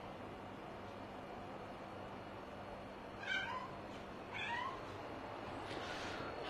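A cat meows twice in quick succession, each call a short rising-falling cry, fairly close but modest in level over a quiet, steady hum of background noise.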